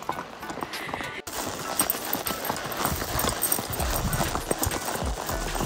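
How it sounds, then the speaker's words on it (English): Rapid, uneven clip-clop of a ridden horse's hooves on a hard surface in Cuba, close and steady, over background noise, with a brief break near the start. "This is the horse I'll be riding, y'all."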